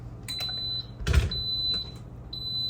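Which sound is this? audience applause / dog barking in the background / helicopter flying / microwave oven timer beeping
microwave oven timer beeping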